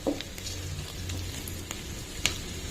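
Fenugreek and cumin powder frying in a pan for a curry, a faint steady sizzle with a few soft clicks and light scrapes, quiet and without talk.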